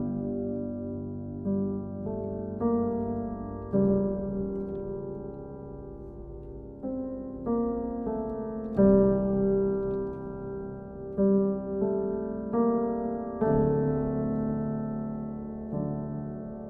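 Orchestral soundtrack intro from House of the Dragon for a king's entrance: sustained low strings and brass swell in slow, stately chord changes, building in loudness with no voices.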